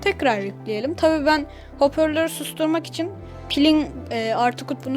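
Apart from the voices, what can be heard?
None of the usual background noises is heard.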